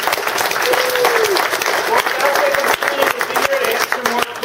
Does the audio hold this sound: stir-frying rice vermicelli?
no